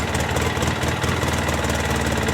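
A Polaris RZR 800S side-by-side engine runs at a steady, loud, close idle with a rough mechanical drone and vibration, heard alone.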